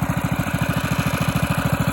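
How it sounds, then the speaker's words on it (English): A Honda GX200 small engine on a minibike idles steadily, putting out an even, rapid low chugging pulse, close up and with no voices. "when the engine warms up, it runs a little bit faster at idle versus cold"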